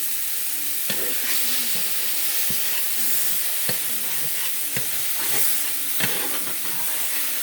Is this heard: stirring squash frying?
yes